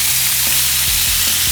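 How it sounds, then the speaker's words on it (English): A huge burger sears on a hot grill, giving a loud, steady sizzle with crackling pops throughout, close and alone. "it sounds good, good sizzle. Very good sizzle"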